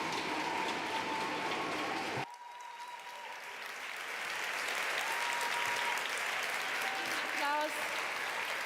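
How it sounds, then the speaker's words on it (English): Applause from a conference audience after a stage talk, a dense sustained clapping that cuts sharply, then swells back and continues steadily with some cheering. "Huge applause."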